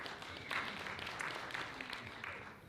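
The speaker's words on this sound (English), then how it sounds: "Another round of applause for Zia, please." Audience applause at an IDAHOBIT 2023 panel event, a steady spread of clapping from many hands sustained throughout, moderately soft and with no one speaking over it.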